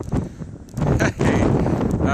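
Wind buffets the microphone in loud gusts on a cold mountaintop while a person speaks over it, the rumble rising and falling briefly.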